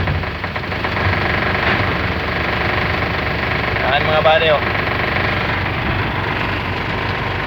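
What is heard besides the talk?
FAW 24-valve 2012 truck engine running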